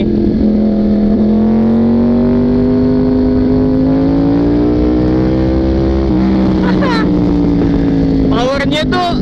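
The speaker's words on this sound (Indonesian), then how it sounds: "Nah, kalau crossplane suaranya kayak gini." A Yamaha R1 with a crossplane inline-four engine revs loud and close, its gravelly note rising and holding for several seconds, then dipping before a few sharp blips. A voice speaks briefly over the engine.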